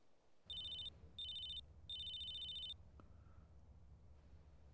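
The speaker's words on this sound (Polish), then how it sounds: "Telefon od kogoś." A mobile phone rings inside the video game GTA San Andreas: three bursts of a high electronic ringtone in quick succession, clear over a low steady game background hum, then the ringing stops.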